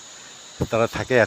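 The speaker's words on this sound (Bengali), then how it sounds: "এইখানে সাধারণত ওই যে ঝিঝি পোকা ডাকছে" A steady high insect trill from crickets in a pine and fir mountain forest along a trek trail, continuous in the background under close speech.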